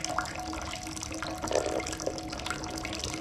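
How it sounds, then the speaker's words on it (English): Hot water from a kettle poured over a Tupperware lid during a hand sparge on a dry Irish stout brew day, a continuous splashing trickle with a few louder gurgles, close by. "Pour it over this Tupperware lid to kind of keep it from pouring down"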